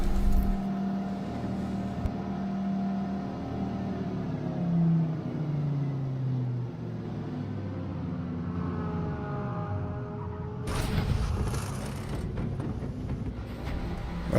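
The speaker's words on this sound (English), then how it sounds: "That's 2 cars that I've just heard pass." In the Forza Motorsport racing game, race car engines drone and shift in pitch as cars pass, ending with a louder, brighter rush of another car going by.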